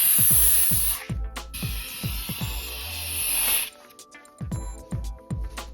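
Long hissing bursts from an aerosol lubricant spray can on a car window, two extended sprays with handling clatter between, fairly close and loud.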